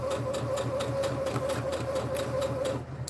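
Sewing machine stitching a bandana bag, a steady fast mechanical whir with a rhythmic needle clatter, close and continuous until a brief dip at the end.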